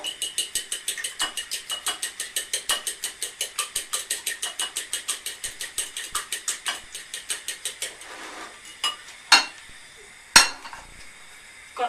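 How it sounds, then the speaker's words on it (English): Eggs with a pinch of salt are whisked in a bowl in a home kitchen, giving a fast, even run of rhythmic clicking strokes close by that slows into a few scattered clinks and taps near the end, with no talking. "Bit of salt, and then just whisk the eggs."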